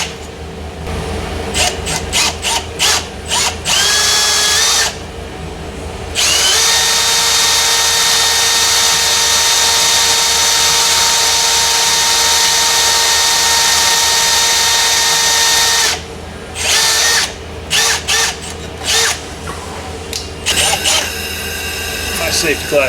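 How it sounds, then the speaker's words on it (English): Power drill boring a hole under a lowered Ford F-150 work truck, heard as two long, loud sustained whining runs, with short stop-start bursts of the bit before and after each run. "I do actually have a 90-degree drill I could use now."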